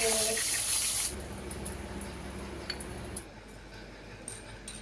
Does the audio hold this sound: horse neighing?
no